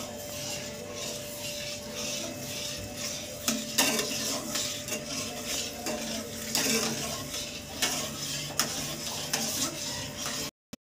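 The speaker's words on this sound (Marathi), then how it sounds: "दुधाचं मिक्सचर टाकूया. आता चांगले प्रकारे मिक्स करूया." A spoon stirs a milk mixture in a pot for homemade ice cream, giving steady close scraping and clinking against the pot over a faint constant hum, with occasional sharper knocks and no speech.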